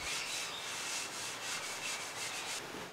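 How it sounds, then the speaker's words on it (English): Cloth rubbing wipe-on polyurethane onto a restored wooden furniture surface, soft steady swishing strokes in a quick rhythm, close and quiet. "Next comes the long process of wiping on layers upon layers of wipe-on polyurethane."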